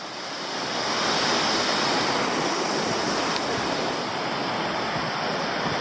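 Steady rushing of a clear Tasmanian creek flowing under a bridge on the Meander Falls trail, a broad continuous hiss of water that swells slightly early and then holds constant, close and unbroken.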